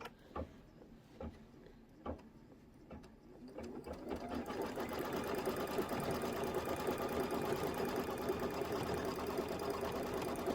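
Sewing machine quilting the outer border of a quilt: a few isolated clicks at first, then a steady, fast mechanical stitching whir that builds and runs continuously, fairly close.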